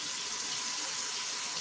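Water runs from a kitchen tap into a sink, a steady, close hiss of flowing water with no pauses.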